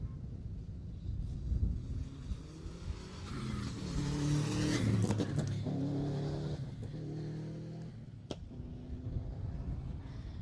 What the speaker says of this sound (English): Little beat there for Dave Smith as he came around the corner in his Subaru Impreza